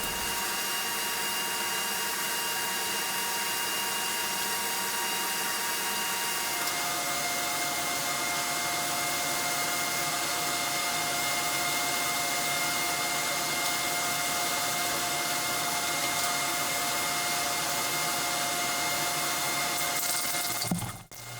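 Steady hiss of a spray gun applying pre-catalyzed sanding sealer to a wooden picture frame, a constant airy roar with a faint hum, cutting off abruptly at the end.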